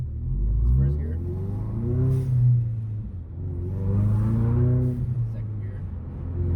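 A turbo car engine rumbles from inside the cabin, revving up in two long rising pulls with a short drop between them, fairly loud and throaty.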